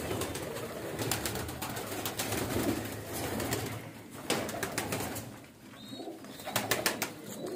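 Breeder pigeons coo steadily and close by, with repeated soft throaty calls overlapping through the whole stretch, over a faint background of other birds.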